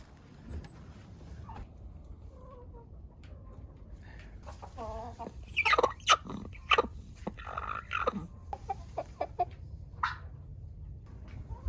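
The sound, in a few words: chickens clucking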